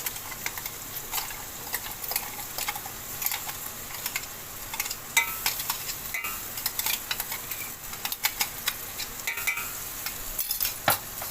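A green paste of coriander, ginger and garlic fries in a pan as it is stirred, giving a close, continuous sizzle broken by frequent scraping and clattering utensil strokes.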